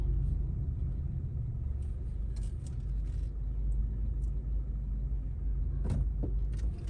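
A car in a residential area near a school, its engine rumbling low and steady from inside the cabin as it drives and slows to park, with a few faint clicks and thumps.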